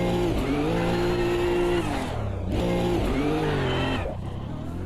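Race car in the Automobilista 2 sim racing game driven to warm its tyres, engine loud and close with steady revving that dips and climbs again through gear changes, plus brief tyre squeal.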